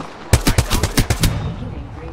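Rapid burst of automatic gunfire in the Apex Legends battle royale game, about eight sharp close shots in quick rhythm over roughly a second, then a fading tail with no talking.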